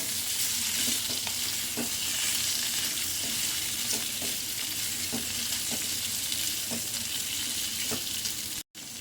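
Potatoes for an Indian fasting-day potato curry are stirred in a sizzling pan, with a steady frying hiss under regular scraping strokes of the spoon about every half second, close and clear with no talk.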